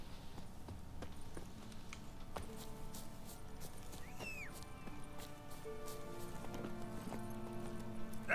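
Roach, the horse in The Witcher 3, clip-clops along at a steady pace, hooves thudding softly in an even rhythm beneath game music and ambient tones, with a brief chirp partway through.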